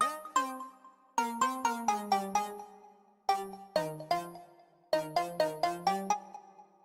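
Layered synth lead melody built in FL Studio 20, with a bright plucky patch doubled an octave higher: crisp repeated plucked notes in short rhythmic phrases separated by brief gaps, each note decaying quickly, no voices.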